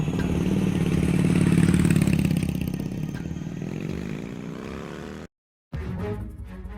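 Motorbike engine revving loudly up close, then a steady running drone as it pulls away, cut by a brief silence before the engine noise resumes.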